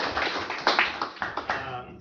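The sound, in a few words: applause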